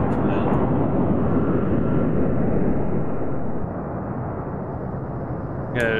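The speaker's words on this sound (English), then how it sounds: "What's that plane noise coming from that?" A steady, loud roar of an airplane engine in a war video game, holding evenly before dropping slightly in level partway through, with no talking over it.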